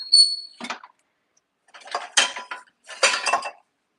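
A drinking glass clinks and rattles as it is taken out among other glassware and dishes, in several short bursts separated by silence, close and fairly clear, with no talk.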